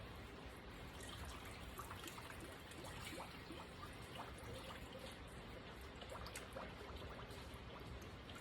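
Liquid pours over the top of chicken and dumplings in a full crock pot, a steady splashing trickle that runs continuously and fairly softly with no talking.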